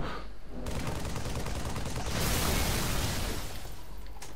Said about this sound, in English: It would appear a grenade went off behind me.